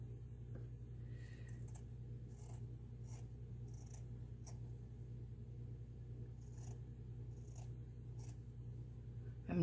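Scissors trim fuzzy fabric edges in a quiet room, a scattered series of soft, crisp snips and short scrapes over a low steady hum.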